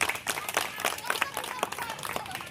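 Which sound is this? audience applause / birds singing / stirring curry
audience applause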